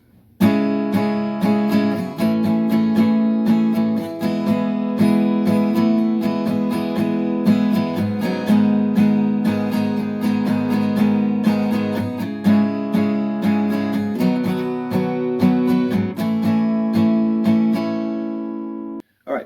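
Acoustic guitar strums the intro of a song in a steady rhythmic pattern, chords ringing brightly and changing every few beats, played alone without any voice.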